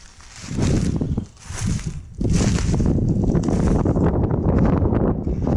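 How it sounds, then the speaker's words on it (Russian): Strong wind rising in a forest, buffeting the microphone in heavy gusts, dipping briefly then roaring back and holding loud and constant. "сейчас поднимается очень-очень сильный ветер"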